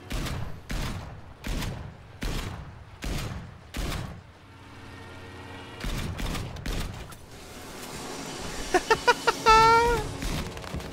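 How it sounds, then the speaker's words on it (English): Stuka dive bomber cannon pods firing at infantry in Battlefield 5, heard as a series of heavy, evenly spaced booming shots, then a brief pause and a denser, louder burst of fire with explosions near the end. "let's try and actually use these cannon pods on a bunch of infantry."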